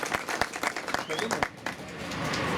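Audience at a fish restaurant's opening ceremony clapping for the staff, with a burst of separate sharp handclaps that blends into a steadier wash of applause toward the end, close and moderately loud.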